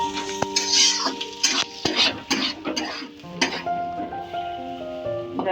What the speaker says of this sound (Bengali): আলু ডিম ভাজা হচ্ছে